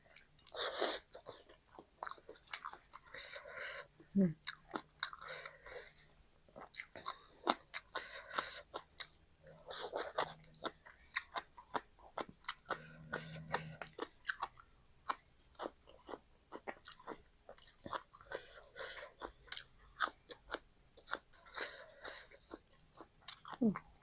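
Crunchy chewing of a spicy cooked-shrimp salad with stink beans, close-up irregular crisp bites and mastication sounds repeating throughout, with faint vocal noises in between.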